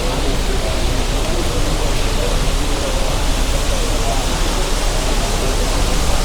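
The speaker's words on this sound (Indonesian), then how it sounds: "Dari pagi hujan terus." Steady rain falling near a large box culvert under a toll road used by farmers: a loud, even hiss that holds without pause throughout, with no clear voices.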